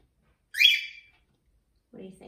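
A pet bird gives a single bright, sweeping chirp, fairly close and clear against silence, followed after a pause by a person beginning to speak.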